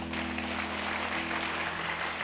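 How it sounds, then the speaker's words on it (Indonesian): A church congregation applauds for Jesus during a sermon: a dense, steady wash of clapping from a crowd, continuous throughout, over a low electrical hum. "Kasih tepuk tangan untuk Tuhan Yesus."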